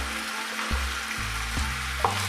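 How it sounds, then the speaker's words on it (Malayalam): Marinated chicken, coated in chili powder and salt, fries in a pan with a steady low sizzle, broken by a few soft knocks of a spatula or utensil against the pan; no talking. "ചിക്കൻ 2 സൈഡും ഒരു 5 മിനിറ്റ് ഒന്ന് മൊരിയിച്ചെടുക്കുക"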